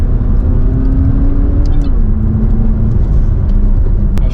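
A McLaren 570GT sports car engine while driving, a loud, steady low rumble and drone heard from inside the cabin, its pitch easing slightly as it holds a continuous cruising note.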